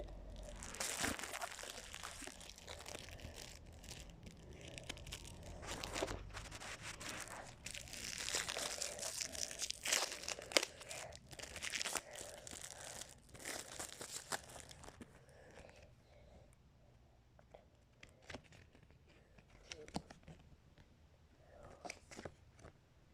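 Packs of trading cards torn open one after another, plastic wrappers crinkling, crackling and ripping close by, busy at first and then thinning to sparse rustles and snaps.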